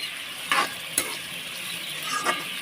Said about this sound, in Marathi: त्याला पण परतून घेते मस्त असे पलसतून घेते त्याला पण